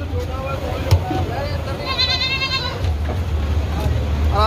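A goat bleats a few times, wavering calls mixed with people talking over a low rumbling background, fairly close, in a Pakistani city.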